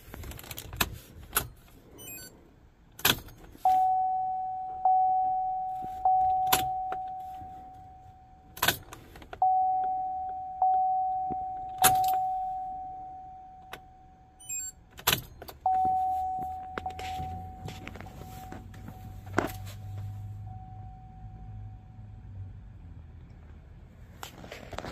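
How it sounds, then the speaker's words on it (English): Ignition key on a 2015 Chevrolet Silverado 6.2 with a broken valve spring being cycled on and off: sharp clicks and key jangles, each followed by a run of steady electronic warning chimes, repeating several times close by, with a low hum near the end. "I guess I'll just cycle the key on and off several times"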